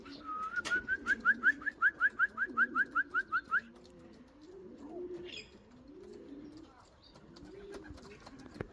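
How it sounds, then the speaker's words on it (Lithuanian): Young racing pigeons back from a junior training flight; a loud, rapid run of about fifteen pulsed calls rises and falls for several seconds, then gives way to soft low cooing and fluttering, with no talk. "grįžo paukščiai. 37 paukščiai, 36 jaunikliai"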